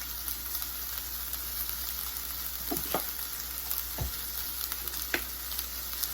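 Half and half warms in a pan with a steady low sizzle and bubbling hiss, a few soft clinks of a utensil against the pan, close and without speech.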